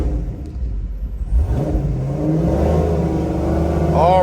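A cammed GMC Sierra pickup with an automatic transmission and a 3400 stall converter revs hard for a launch, its deep engine rumble climbing in pitch in rising surges, loud and close.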